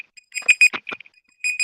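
An electronic timer alarm beeps in quick irregular bursts of shrill tones, loud and close, pausing briefly before sounding again.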